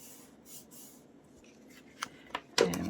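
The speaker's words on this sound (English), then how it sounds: "then I can cut the edge off" Scissors cut the edge off a paper belly band for a Halloween junk journal: faint rustling handling, then a few sharp snips growing louder and closer toward the end, with no talking.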